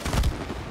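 One short, punchy gunshot from the video game It Takes Two, a single close boom that fades quickly.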